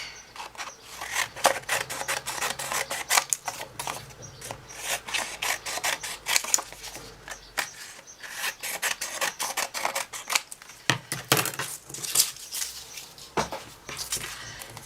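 Scissors snip repeatedly through paper while trimming a craft pocket: a close, uneven run of crisp cuts and rustles with brief pauses.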